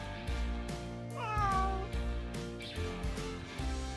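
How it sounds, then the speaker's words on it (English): A toy cat from a farm animal barn playset gives several electronic meows over a backing tune, one long rising-falling meow standing out in the middle, close and clear with no talking. "Here's our friendly and playful cat."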